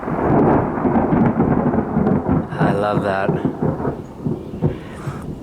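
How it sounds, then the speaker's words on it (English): Thunder rumbles through a thunderstorm heard from inside a garage, a loud, sustained low roll lasting several seconds with a brief spoken exclamation over it. "The thunder gods are speaking to me."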